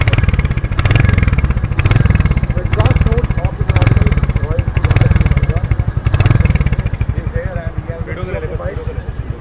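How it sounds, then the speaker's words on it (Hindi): A Royal Enfield Hunter 350 motorcycle engine revs repeatedly in strong rhythmic bursts, its throaty exhaust note loud and close, settling toward idle at the end. "So there you go, that's the exhaust note."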